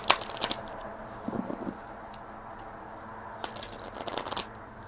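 Tarot cards are shuffled by hand in short, quiet bursts of papery riffling and flicking, with sparse crisp clicks spread across a hushed room and no talking.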